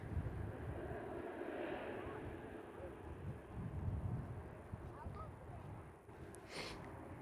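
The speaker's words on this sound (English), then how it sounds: "enjoy the A330 as they head off as Qantas 71 over to Singapore today." A Qantas Airbus A330 departs Perth airport, its jet engines a distant, low, continuous rumble that swells slightly and holds steady throughout.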